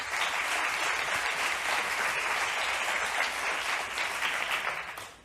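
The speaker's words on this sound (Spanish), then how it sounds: "Un aplauso para ella." Conference attendees at a women in project management event applaud a keynote speaker with dense, continuous clapping that holds steady and then tapers off at the end.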